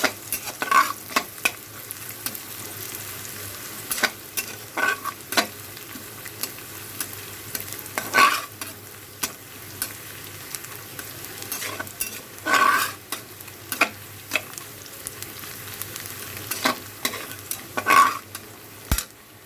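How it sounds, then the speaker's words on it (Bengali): Continuous sizzle of onion and garlic frying in oil for a khichdi tempering, punctuated by repeated scraping and clinking of a spatula stirring in a pan, close and fairly loud. "কিছু পেঁয়াজ কিছু রসুন একসাথে ভেজে নিচ্ছি"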